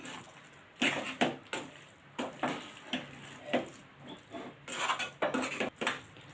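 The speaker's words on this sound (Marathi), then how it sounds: "आपण आता हे सगळं मिक्स करून घेऊया" Potato chunks and field beans are stirred together in a cooking pan, with a spoon making soft, irregular scraping and clattering strokes at close range and no talking.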